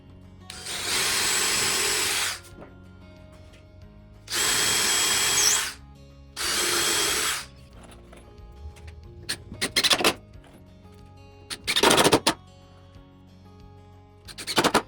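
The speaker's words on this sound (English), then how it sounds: "I'll pre-drill 4 screw holes" Power drill pre-drilling screw holes into wood boards for a small farmhouse entry table, three loud sustained bursts of whirring followed by scattered clicks, knocks and a brief final whir, close up with no talk.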